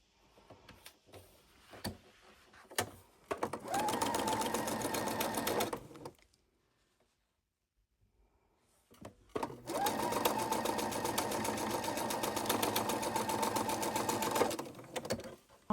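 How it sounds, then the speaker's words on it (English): A sewing machine stitches quilt block rows together in two steady, rapid bursts of running needle clatter, separated by a few seconds of quiet with light handling noises around them. "then we sew our rows together"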